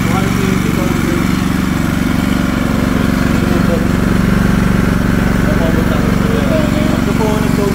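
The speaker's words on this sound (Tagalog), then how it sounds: "So parang malakas lang kasi yung tunog ng ating generator dito sa video" A 4200 inverter silent generator runs steadily at close range, a constant low engine drone with a faint rattling texture underneath.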